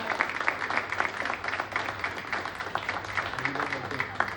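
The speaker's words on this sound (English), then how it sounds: "Can we have a big round of applause for all of us and for this wonderful platform?" Live-session audience gives a big round of applause, dense steady clapping spread across the whole stretch with crowd murmur mixed in, fairly loud and continuous.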